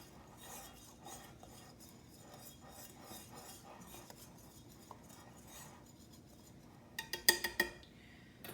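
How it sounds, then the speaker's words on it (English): A whisk stirs dry buttermilk biscuit ingredients, flour and salt, in a bowl with soft, faint rhythmic strokes, ending in a short burst of sharper metallic clinks against the bowl. "I'm going to just whisk all this together"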